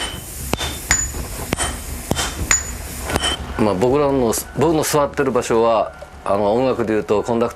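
Large hammers strike red-hot iron at a samurai sword forge, a series of sharp, ringing metallic blows spaced a second or so apart, followed by someone talking over the scene.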